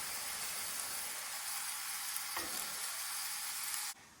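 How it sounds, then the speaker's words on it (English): Ground beef sizzles and fries in a Dutch oven set over 15 to 20 coals, a loud, steady, close crackling hiss with one brief stir, then cutting off abruptly near the end. "to brown your ground beef"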